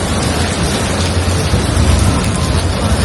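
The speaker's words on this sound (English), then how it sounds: "Guys, it's raining. Raining like hell." Heavy rain pouring down in a thunderstorm, a dense loud hiss of drops with low thunder rumbling underneath throughout, close and continuous with no talking.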